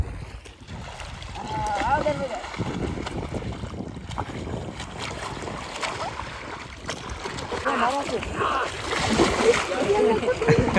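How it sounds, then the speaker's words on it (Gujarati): Water splashing and sloshing as villagers wade across a neck-deep river in rural Gujarat, continuous churning close by with wind noise and voices talking over it. "ગળા ગળા સુધી પાણી છે તો બધા નદી પાર કરે છે"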